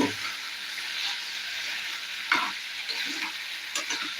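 Potato curry stirred in a pan, a steady close sizzle broken by scraping strokes of the spoon, with a sharper clack midway and a few more scrapes toward the end.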